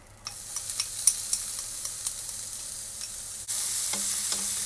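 Minced shallots crackle and sizzle in a little cooking oil in a pan, a soft steady frying hiss with scattered pops. The sizzle gets a little louder partway through, with no talking.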